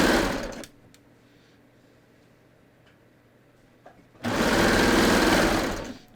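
A sewing machine stitches a pants pocket to the waistband of ready-to-wear trousers. It runs in a steady whirring burst, falls quiet for several seconds, then starts another longer loud run.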